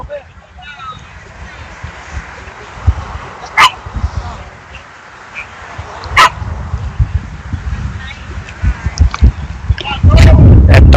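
Dog barking at a softball national championship tournament ballpark, several sharp, short barks popping out over steady crowd noise and a commentator talking.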